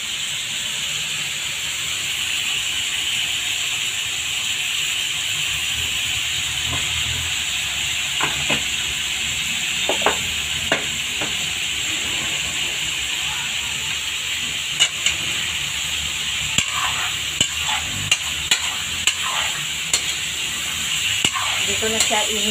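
Pork knuckle (pata) frying in a pan for paksiw: a steady bright sizzling hiss throughout with scattered sharp pops and spatters, close by.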